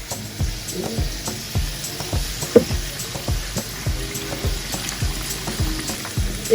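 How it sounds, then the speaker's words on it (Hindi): Batter-coated fish fries in hot oil for crispy fish and chips, a moderate steady sizzle broken by soft rhythmic bubbling and occasional clinks, close and unvoiced throughout. "फिश को सिर्फ हमने 3 और 4 मिनट के दरमियान फ्राई करना है"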